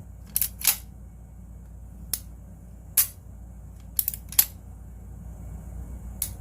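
Dry trigger pulls on a Tanfoglio Stock 3 Extreme pistol, heard as a series of sharp, crisp clicks close up. They come irregularly over a quiet background, with a few doubled clicks where the slack is taken up before the break.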